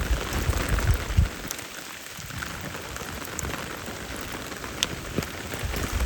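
Steady rain falls throughout during a river raft trip, a dense, even hiss of drops striking surfaces, close and fairly loud, with a few sharper drip accents and no voices.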